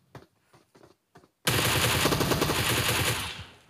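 A few faint, spaced shots are followed by a sudden, loud, sustained burst of rapid automatic fire in PUBG Mobile. The burst continues to the end and fades slightly at the close.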